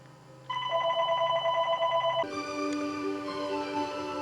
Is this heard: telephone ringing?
yes